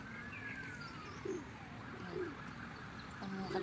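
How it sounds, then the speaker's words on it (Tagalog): Pigeons coo on a Prague street, soft low rounded calls recurring a few times against steady outdoor ambience, with faint chirps from other birds above. "Ang mga kalapate, nagagala lang dito, guys."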